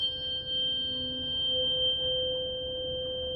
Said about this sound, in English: These two together create the perfect fifth.